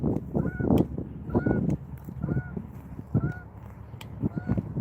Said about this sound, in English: I hear the geese are going crazy out here right now.